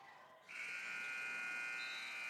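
A sustained electronic horn sounds at a high school junior varsity girls basketball game as the first quarter ends, one steady tone held for about two seconds over quiet gym ambience.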